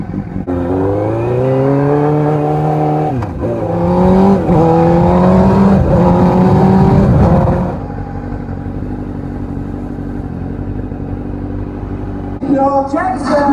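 A motorcycle engine rises in pitch as it revs up and accelerates away, loud and close at first. It then settles to a steady idle-like hum, and a brief rattle follows at the end.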